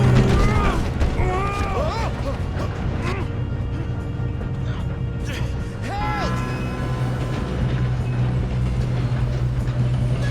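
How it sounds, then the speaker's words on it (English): A moving train rumbles along its rails in Red Dead Redemption 2, a loud continuous roll with mechanical clatter, while people shout and talk over it. "Gotta catch this train."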